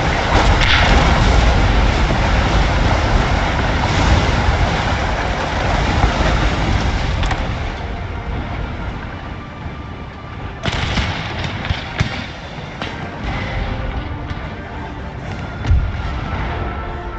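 Troops fire massed musket and cannon volleys in the Napoleon Total War game during a battle, making a dense, loud, sustained roar of gunfire and booms with scattered sharper cracks.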